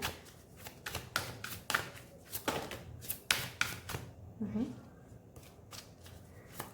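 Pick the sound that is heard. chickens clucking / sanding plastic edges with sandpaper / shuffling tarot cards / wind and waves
shuffling tarot cards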